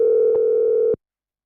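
A steady electronic telephone line tone hums continuously on a call line, loud and close, with faint clicks, then cuts off abruptly into silence.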